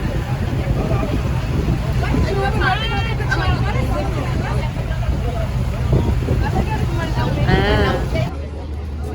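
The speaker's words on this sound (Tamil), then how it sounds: "இங்கே க்ரூஸ்லேருந்து இப்படி தூரமாக நாங்கள் வந்துட்டு இருக்கோம் போட்டு வழியா" A small boat ferries passengers out from a cruise ship toward a town, its engine drone and rushing water steady beneath wind, while someone talks throughout over a background of other voices.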